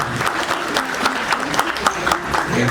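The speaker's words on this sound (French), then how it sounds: "veuillez les applaudir." Audience applause for graduates at a graduation ceremony in a hall, a mix of clapping with some distinct louder claps standing out, fairly close and lively across the short stretch.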